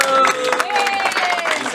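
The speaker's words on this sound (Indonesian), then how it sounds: "Tepuk tangan untuk Pak Artawa" An audience at a business training seminar claps loudly, a dense, close burst of applause with a voice briefly rising over it.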